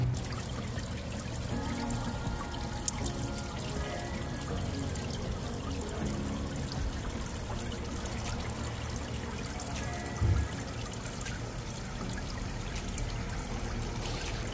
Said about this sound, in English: all I can hear is the sound of the water